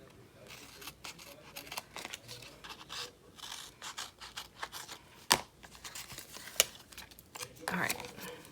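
Close, quiet snipping and rustling of scissors cutting paper, irregular cuts with a couple of sharper clicks and faint background talk.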